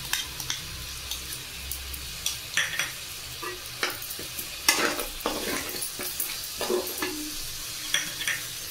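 A spoon stirs chicken curry with cashew paste in a hot pan, scraping and clinking in irregular strokes over a low, steady sizzle, close and unaccompanied by talk.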